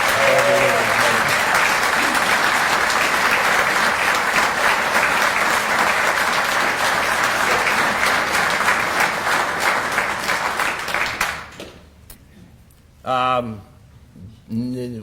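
Sustained applause from the audience at a county address honouring a medical centre's chief executive, loud and dense for about eleven seconds before cutting off, followed by brief speech.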